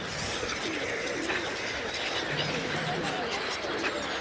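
Pigeons coo at a beach feeding spot at Porbandar Chowpatty, their soft calls blended into a dense, continuous wash of outdoor crowd and seaside noise.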